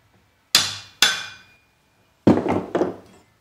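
Sharp hammer blows drive an old handle out of an axe head held in a punch-out jig: two separate ringing strikes, a pause, then three quicker hits in succession, loud and close with short metallic decays.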